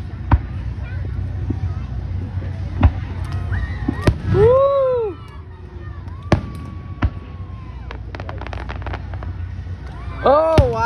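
A July 3 fireworks show exploding, with sharp booms and crackling bursts at irregular intervals plus a few whistling rockets, heard from a distance over low outdoor rumble and crowd sounds.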